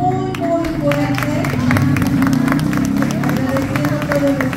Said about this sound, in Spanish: nos despedimos con un aplauso muy, muy fuerte.